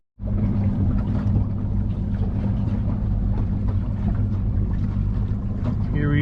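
Evinrude ETEC 150HO outboard motor pushing a 1979 Glastron CVX16 boat on Cass Lake, a steady close droning hum with water rush and wind buffeting throughout, no talk.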